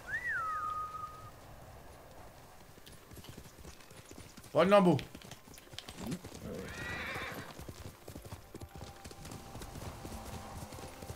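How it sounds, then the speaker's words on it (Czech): A horse in the video game Ghost of Tsushima whinnies loudly once midway, with faint hoof clip-clops and a short whistle before it, while someone talks over the game sounds. "Potřebuji na to ale koně."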